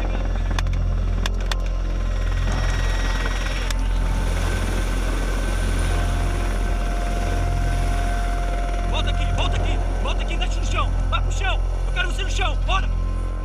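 A federal police helicopter drones steadily throughout at moderate loudness, its low rotor hum constant beneath scattered faint background noises.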